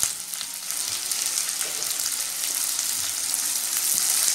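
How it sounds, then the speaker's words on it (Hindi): Chopped onions and cashews fry in hot oil for chicken changezi, producing a loud, continuous, close sizzle with only faint hints of stirring. "अब मैं इसमें प्याज डाल दूँगी जो हमने काट के रखी थी। साथ ही हम इसमें डालेंगे काजू।"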